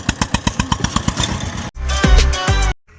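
A tractor's diesel engine chugs with steady, rapid thumps, then revs up into a louder, rough roar before cutting off abruptly.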